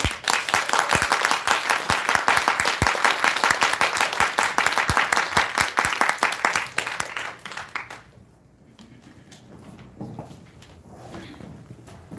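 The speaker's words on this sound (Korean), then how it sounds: "다시 한번 큰 박수 드립니다" An audience applauds steadily at the close of a business presentation lecture, dense clapping filling the room before thinning out and fading near the end.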